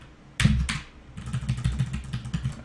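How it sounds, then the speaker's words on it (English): Computer keyboard typing nearby, a couple of sharp key strikes followed by a quick burst of rapid clicking, moderately loud and isolated. "My keyboard just fritzed out there."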